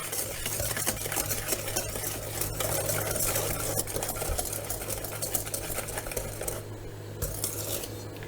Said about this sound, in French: On va incorporer notre maïzena au mélange jaune d'œuf et sucre.